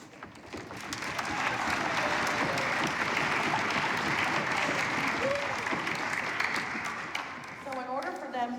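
Applause rises from the audience at a 6th grade school orchestra demonstration concert, a dense wash of clapping that swells and holds. A voice starts talking near the end as the clapping fades.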